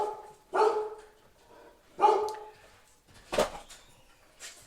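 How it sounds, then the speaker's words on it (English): A dog barks indoors at a distance, three or four single woofs spaced about a second and a half apart, moderately loud against a quiet room. "Dog's barking again."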